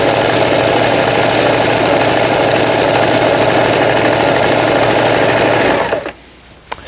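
A Toyota EC21 home sewing machine, about twenty years old, runs an overlock stitch on fabric edges with a steady, loud mechanical whir and rapid needle chatter that continues evenly, then stops abruptly near the end.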